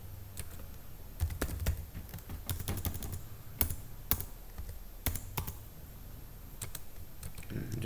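Computer keyboard typing in bursts of quiet clicks, with a few louder key strikes scattered among softer taps, fairly faint against a low background hum and no talking.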